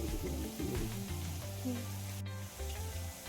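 Boondi batter drops sizzle steadily in hot oil, a close, continuous crackling fry with low bubbling underneath and a brief scrape partway through.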